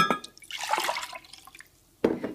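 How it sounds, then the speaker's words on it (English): Water poured into a measuring cup while making AeroPress coffee, a short splashing trickle that fades, followed by a sharp drip or clink near the end. "So I'm going to pour the water into my measuring cup."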